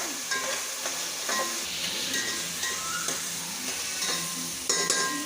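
Chopped tomatoes sizzle in a hot pan of oil for mutton yakhni pulao as a spoon stirs them, giving a steady close frying hiss with repeated scraping strokes.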